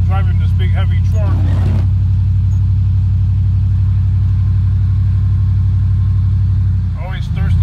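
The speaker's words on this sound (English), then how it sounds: "I'm driving this big heavy truck." A big, heavy pickup truck's engine drones loud and steady while driving, a constant low rumble close by, with someone talking over it at the start and end.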